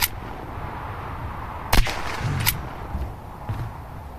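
Gunshots in the survival game Unturned crack out as two sharp reports about three-quarters of a second apart, followed by fainter distant pops over a low ambient background.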